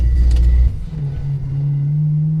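The V8 engine of a BMW E92 drift car rumbles loudly up close, then settles into a steady, slowly rising drone for the rest of the short stretch.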